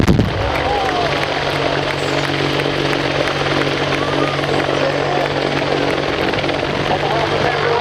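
An attack helicopter in a flying display at Cosford, 2015, drones loudly and steadily with a deep rotor hum and whine, filling the whole stretch without pause.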